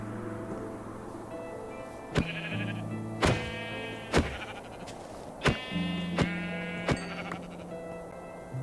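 Sheep in a modded video game bleat repeatedly, about seven loud, close calls spaced a second or so apart over a low steady background hum.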